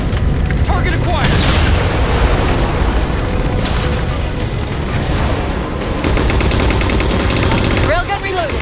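Railgun blasts in Halo 4 aimed at enemy Phantom dropships, heavy booming shots over dense continuous battle noise and gunfire, with a voice talking amid the din.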